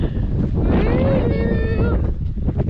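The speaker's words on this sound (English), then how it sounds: "It's so windy." Strong wind blows across a microphone outdoors on a road trip through Mexico, a steady loud rumble of gusts filling the whole clip while a voice speaks over it.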